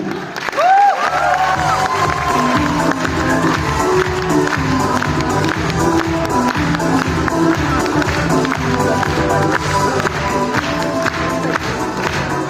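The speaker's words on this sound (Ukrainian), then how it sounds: "А ви гучно, гучно аплодуйте." An audience at a children's show-studio performance in Dnipro claps and cheers, a dense steady wash of applause with shouts and whoops running throughout, loud and close, after a brief sliding tone at the start.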